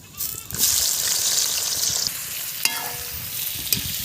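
Onions go into hot mustard oil already crackling with star anise, cardamom, cloves and cinnamon, and a loud hiss bursts up at once, then settles into a steady close sizzle with a few stirring knocks.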